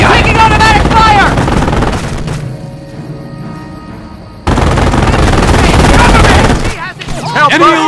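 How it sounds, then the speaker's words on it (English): Automatic gunfire in the World War II strategy game Company of Heroes, loud bursts of machine-gun fire with booms, dropping to a lull mid-way before erupting again, with voices shouting over the battle. "Taking automatic fire!"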